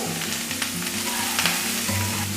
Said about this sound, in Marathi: आता कांदा भाजून घ्यायचा आहे तर कांदा तुम्हाला जास्त जरी वाटत असला तरी परतल्यानंतर तो आकाराने कमी होतो याला पण आता आधी एक मिनिटभर आपण कोरडंच भाजून घेऊया